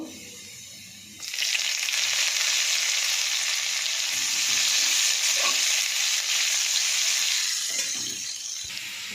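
Onion dropped into hot oil, with black cumin seeds and garlic, after fish has been fried; a loud, bright sizzle bursts in after a second of quiet and holds steady and close to the end, without talking.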